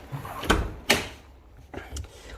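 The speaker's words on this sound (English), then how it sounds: "Open the door" A car door on a used car opens with a couple of sharp clunks and a later latch sound, close by, with someone talking around it.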